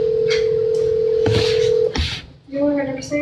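Telephone keypad dialing tones sound loud and close, a steady tone followed by short beeps as a number is entered for a call.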